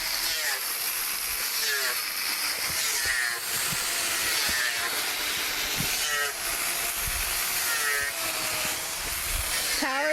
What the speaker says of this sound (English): Power tools and ice chunks flying everywhere.